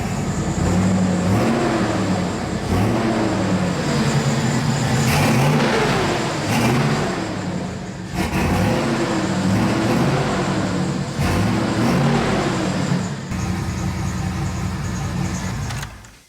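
A Chevrolet Silverado with a 5.3L V8 fitted with headers revs hard in repeated loud, rising bursts that fall back between blips, close up, with a brief pause midway and the engine cutting off at the end.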